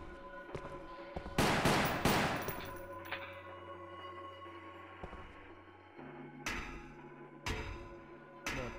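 Gunfire at a zombie in the Wii game Resident Evil: The Umbrella Chronicles, Mansion Incident level: loud rapid bursts of shots with ringing tails and a low droning hum between volleys.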